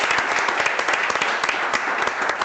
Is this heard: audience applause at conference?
yes